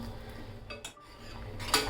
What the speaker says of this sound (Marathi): यामध्ये मी आता मसाला घालते त्याच चमच्याने